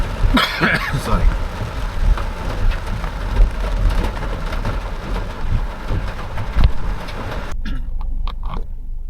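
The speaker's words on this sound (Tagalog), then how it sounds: "Lakas ng ulan, no?" Heavy rain drums steadily on a car roof and windshield, heard from inside the vehicle at close range, with brief throat noises and voice sounds, until it drops away sharply near the end.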